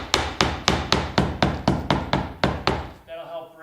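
A chisel is struck about ten times at an even rhythm, each sharp knock close and loud, to break the glued seal of a laminate floor during a repair, with brief rustling at the end.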